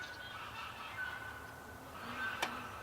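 Farm ducks stirring at dawn give a few scattered honking calls at a moderate distance, over a soft outdoor background hum.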